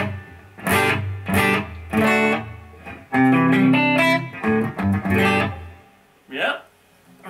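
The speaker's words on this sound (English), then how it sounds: "reverb halfway" An electric guitar plays through a Bugera 333XL amp on the clean channel with reverb at halfway, a few picked chords and notes ringing out with a short tail between phrases.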